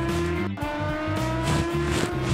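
Motorbike engine in the mobile game Racing Moto, a steady buzzing whine with rising and falling pitch as the rider shifts and accelerates, loud and continuous without talk.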